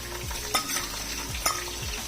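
Onions fry in a pan with about a tablespoon of crushed garlic and ginger added, giving a steady close sizzle with a couple of sharper scraping stirs, no talking over it.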